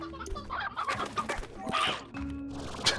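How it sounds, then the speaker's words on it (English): Hens clucking in the Slime Rancher video game, a busy overlapping flock of chicken calls with game effects and music layered underneath, fairly close and steady. "hearing all of this clucking, and then just immediately one of them dies"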